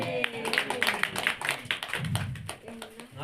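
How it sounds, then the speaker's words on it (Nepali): A church congregation claps hands for God in quick, steady rhythm, a close run of sharp claps with voices faintly mixed in. "ताली बजाउनुहोस् न परमेश्वरको लागि"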